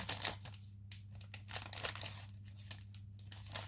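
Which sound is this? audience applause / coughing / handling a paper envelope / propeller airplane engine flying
handling a paper envelope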